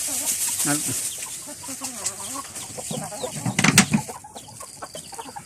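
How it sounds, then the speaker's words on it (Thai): Chickens cluck repeatedly at close range, with a voice talking over them and some rustling near the end. "โอ้ไก่ติ๊กน้อยข้าเหลือสองตัว"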